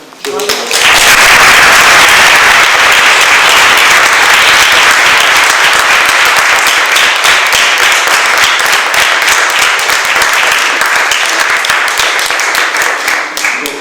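Sustained, loud applause from a lecture audience, dense steady clapping that starts abruptly and carries on for over ten seconds without talk.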